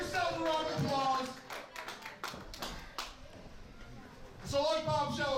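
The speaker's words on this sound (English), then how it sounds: "Come on, give yourselves a round of applause." A small crowd claps at a local pro wrestling show, scattered sharp hand claps and taps between stretches of someone talking over a microphone at the start and end.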